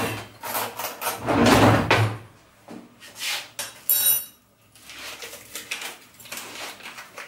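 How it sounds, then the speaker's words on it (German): Drawer sliding and cutlery rattling as a teaspoon is fetched in a kitchen while making a chlorella-spirulina smoothie, a burst of clinking metal and clattering followed by lighter scattered clicks, close by, no talking. "Jetzt holen wir uns mal einen Teelöffel."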